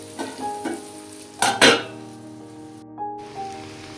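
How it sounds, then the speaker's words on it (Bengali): Peas tipped into a pan of frying vegetables with cabbage, sizzling under a steady hiss while a spoon stirs them, with two louder bursts of scraping and tossing midway and a lingering tonal hum beneath. "এর মধ্যে আমি এবার মটরশুঁটিগুলো দিয়ে দিচ্ছি, দিয়ে ভালো করে নেড়ে নিয়ে আবার ঢাকা দিয়ে দেবো।"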